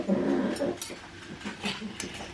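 Dogs whimper and whine softly after their dinner, a few short close high-pitched whines and low grumbles spread across the moment.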